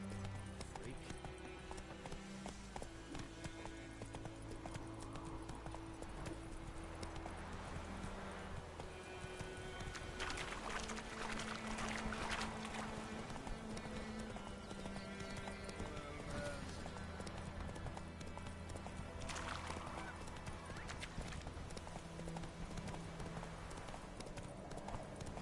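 Horse hooves clip-clopping in a steady, continuous rhythm, with occasional whinnies and a voice heard faintly at moments under a constant background din.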